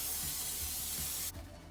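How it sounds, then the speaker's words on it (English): Cooking spray hisses steadily into a 2-quart casserole dish, one continuous close spray for about a second and a half before it cuts off. "I'm going to spray it with some cooking spray."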